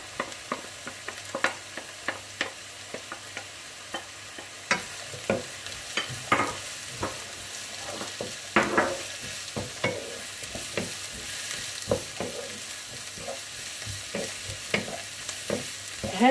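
Sliced peppers and onions frying in a pan while a utensil stirs them, producing a soft steady sizzle broken by repeated scraping clicks and taps, close and fairly quiet.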